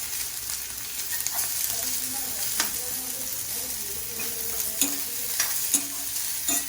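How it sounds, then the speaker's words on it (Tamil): Sliced onions sizzle steadily in hot oil while a spatula scrapes and stirs them around the pan, the stirring strokes clacking at irregular intervals over a constant frying hiss. "இதையும் நல்லா ரோஸ்ட்டாக பண்ணிக்கணும்"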